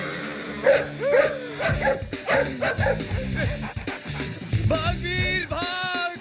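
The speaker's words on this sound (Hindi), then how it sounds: "अबे कुत्ते क्यों भौंक रहा है?" A dog shut inside a car barks and yelps repeatedly in a comedy film scene, sharp high yips and whimpers mixed with someone shouting and background music.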